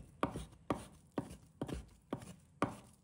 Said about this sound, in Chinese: 再切成小块